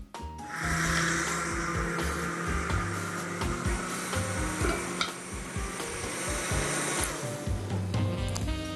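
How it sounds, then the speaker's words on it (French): A blender purées a leek soup in a kitchen, running as a loud, steady whirring drone with a churning texture throughout, no voices over it. "il y a des soupes qu'on doit mixer au blender"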